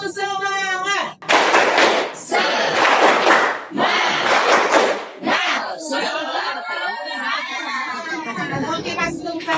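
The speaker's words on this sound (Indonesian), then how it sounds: "Oke, kasih tepuk tangan." Classroom group clapping hands, several dense bursts of many hands clapping together, loud and close, mixed with children's chatter and an adult talking.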